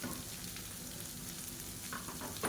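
Radish with mint and coriander leaves sautéing in a pan for radish chutney, a steady close sizzle with a few scraping stir strokes near the end, no talking.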